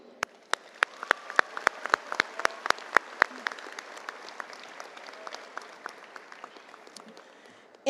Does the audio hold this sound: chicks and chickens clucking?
no